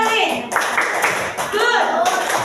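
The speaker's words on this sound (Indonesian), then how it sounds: "Kita tepuk good buat kelompok Ralin." A group of first-grade children claps together in quick bursts while their voices chant along in Indonesian, lively and close.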